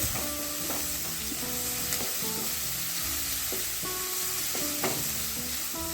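Onion with garlic and ginger frying in a pan for a Mangalorean-style egg fry gives a continuous close sizzle, broken by rhythmic scraping stirs every second or so, with nobody speaking.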